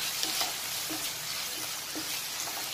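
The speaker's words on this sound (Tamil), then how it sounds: "ஆயில் ஹீட் ஆகிடுச்சு. நம்ம இஞ்சி பூண்டு பேஸ்ட்டு போட்டுடலாம், வெங்காயம் போட்டுடலாம்" Onion, ginger garlic paste and green chili frying in hot oil while being stirred, a steady close sizzle broken by scraping stirs, with no voices.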